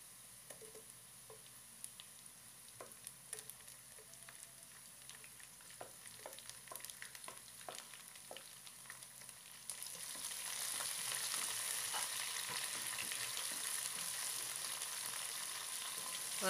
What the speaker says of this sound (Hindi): इन तमाम मसालों को भी हम प्याज के साथ फ्राई कर लेंगे